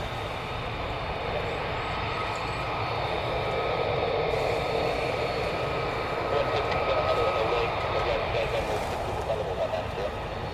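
Aircraft passing over RAF Lakenheath, a steady broad engine roar holding throughout with a slight swell in the second half, heard from a distance.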